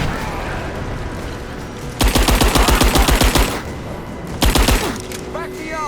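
Rise of the Tomb Raider automatic gunfire: a loud rapid burst of about a dozen evenly spaced shots lasting over a second, then a shorter burst a little later, over a steady bed of game ambience.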